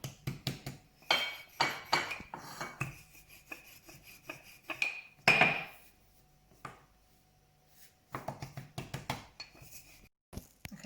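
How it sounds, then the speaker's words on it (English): Pastry dough for a chocolate tart being rolled out on a floured surface, with intermittent scraping, rubbing and light knocking bursts of varying length, close by, separated by quiet pauses. "So I'm just going to put some flour on my bowl and then just try to roll it out."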